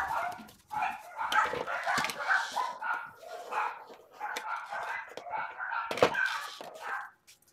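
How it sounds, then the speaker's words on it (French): Dogs bark repeatedly in a neighbourhood after a neighbour's chainsaw work on a large tree stops, with irregular barks and whining yelps at moderate distance, tumbling over one another without pause. "Et du coup, ils sont mis à aboyer, parce que ça manquait le bruit."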